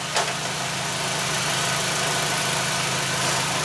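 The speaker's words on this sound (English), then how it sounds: "So I'm going to do a wide open throttle test." A 2001 Audi Quattro engine runs at a steady, even drone, close and continuous, with no clear rise in revs and no voices.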